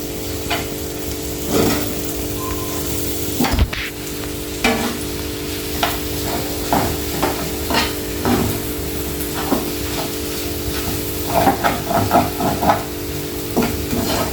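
Onion and egg curry masala fries steadily in hot oil, a continuous close sizzle broken by repeated scraping stirs and clinks of a spoon against the pan, with no voices.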